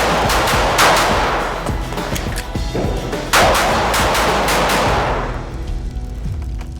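Gunshots from a Bul Armory TAC Pro pistol at a shooting range ring out in rapid, loud strings, with some bursts packed close together and echoing sharply nearby.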